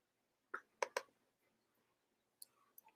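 A computer mouse gives a few sharp, quiet clicks in a near-silent room, a quick cluster early on and a couple more after a pause.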